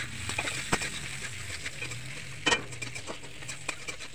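Onions with a pinch of salt frying in hot oil in a pan: a soft, steady crackle with scattered stirring taps and one brief clatter, over a low background hum and without speech.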